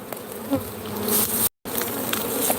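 Agitated honeybees hum loudly and continuously around their hive, a dense close buzz with a very brief dropout.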